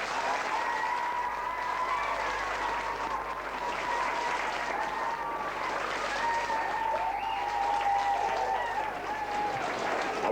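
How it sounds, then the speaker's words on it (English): Sustained applause from a sizable audience, a thick, even wash of clapping lasting about ten seconds, with faint voices mixed in. "they all deserve a big round of applause"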